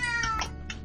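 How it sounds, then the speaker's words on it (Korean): A Minecraft cat gives a couple of short, clear meows in quick succession, close and fairly loud, with no talking. "고양이의 울음소리 특별 출연."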